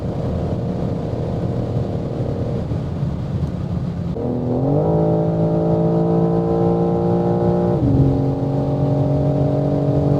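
A 510 hp BMW M4 G82 drives at high speed on the Autobahn, its engine a loud steady drone with road and wind roar, then rising in pitch as it revs higher before settling back, heard from inside the car without talk.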